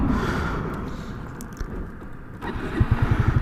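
A motorbike engine cranks and catches near the end, settling into a close, rhythmic putter after a low mechanical hum.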